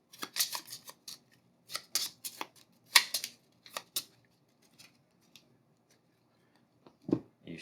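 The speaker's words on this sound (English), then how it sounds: "for cleanup phase, you shuffle all the AI cards" Cards from the AI deck of the Merchant's Cove tabletop game being shuffled by hand, a string of crisp riffling bursts near the mic, each followed by short pauses, with no talk.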